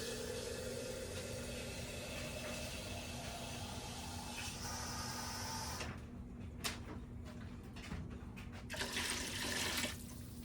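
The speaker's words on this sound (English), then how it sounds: "So we're gonna fill the bottom of this pretty good with water." Water running from a tap into the bottom of an Instant Pot, a steady faint hiss of filling liquid that turns into clanks and handling noises partway through.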